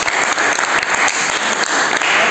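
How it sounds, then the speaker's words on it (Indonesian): Applause for a student group in a classroom presentation session, a steady burst of clapping from a small crowd lasting a couple of seconds, fairly loud and close. "tepuk tangan untuk kelompok 3"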